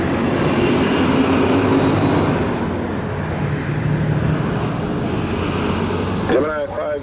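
An airplane lands on runway 25 at Montego Bay, Jamaica. A loud, steady engine roar fills the scene with a high whine that drops away midway, and the roar continues to the end.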